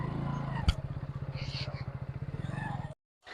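A motorcycle engine chugs along with a close, rapid, even pulse during a ride, with a brief clatter early on before the sound cuts off abruptly near the end.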